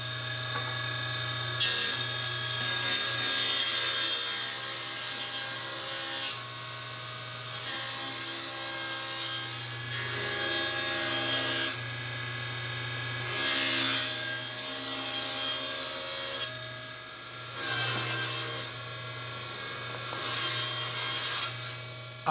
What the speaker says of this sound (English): I'm going to set my saw to 4¼ and make the first cut with the grooved edge up against